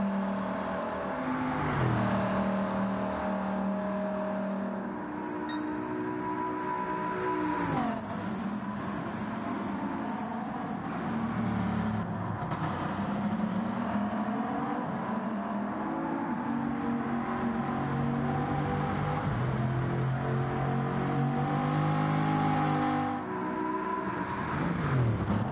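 Gr.1 race cars in Gran Turismo 7 at Kyoto Yamagiwa+Miyabi, engines droning and rising and falling through gear changes and revs, with shifts in pitch as cars pass, sustained and loud.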